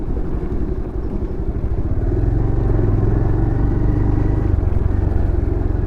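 A motorcycle engine rumbles close by while the bike clatters and rattles over a rough road, its double stand repeatedly scraping, the drone growing steadier and louder partway through.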